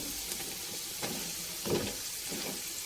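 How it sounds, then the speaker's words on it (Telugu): Batter-coated capsicum frying in oil, a steady bright sizzle with a few soft stirring bumps, fairly quiet and without voices. "టేస్ట్ అయితే ఇలా ఫ్రై చేసుకోవాలి"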